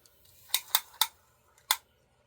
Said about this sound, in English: let me cut the leather